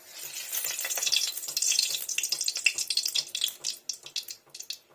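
A bay leaf dropped into very hot oil for a fig curry crackles and sizzles loudly up close, the frying hiss swelling at first and then breaking into sharp, spaced pops as it settles.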